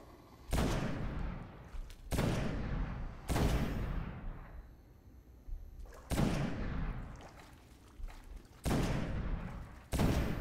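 Heavy weapon fire in the shooter game Destiny during a Nightfall strike, loud repeated booming bursts with long rumbling tails, several shots spaced a second or two apart.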